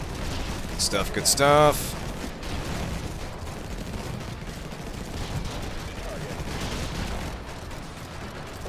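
Turrets being blown apart amid gunfire in the video game Infested Planet: dense, steady battle noise with a brief sharper burst early on, running under a voice.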